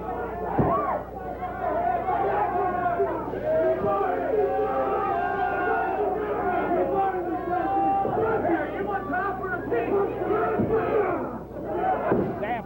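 A wrestling crowd jeers and taunts the Assassin, a steady hubbub of many voices close around, with an announcer-like voice carrying over the babble.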